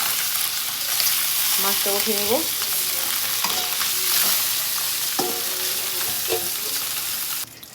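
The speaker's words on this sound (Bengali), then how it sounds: "এদিকে মাছটাও ভাজা হয়ে গেছে" Fish frying in hot oil in a home kitchen, a steady close sizzle throughout with occasional scraping and clinks of utensils, while a person talks briefly over it.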